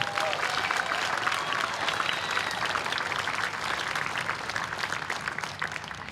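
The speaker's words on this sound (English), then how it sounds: "Please give them a round of applause for all their hard work." Sustained audience applause fills a Relay for Life gathering, dense and steady clapping from a large crowd throughout, with no talk over it.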